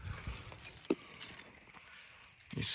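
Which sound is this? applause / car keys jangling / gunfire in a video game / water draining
car keys jangling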